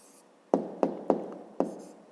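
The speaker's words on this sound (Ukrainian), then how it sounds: "Ну, а тепер записуємо відповідь" Pen on paper as a math answer is written out by hand: four crisp, separate taps and strokes close by, with quiet scratching between them and no voices.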